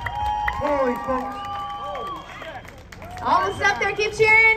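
A crowd cheers and shouts at a lumberjack show during the West Coast Lumberjack Show at the Medicine Hat Stampede, the noise swelling loudly toward the end, with nearby voices talking throughout.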